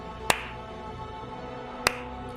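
Two sharp, isolated claps about a second and a half apart, crisp and fairly close over a quiet background hum, used as a fantasy game sound effect.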